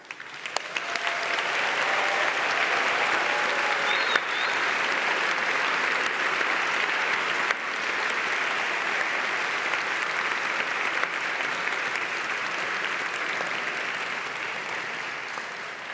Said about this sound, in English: I would like to raise a round of applause for all the teachers and all the mentors